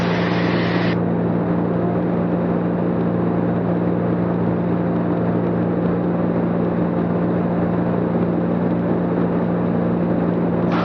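Steady drone of an Ikarus C42 microlight's engine during a climb, a loud continuous hum with a constant low tone and no change in pitch throughout, heard from inside the aircraft.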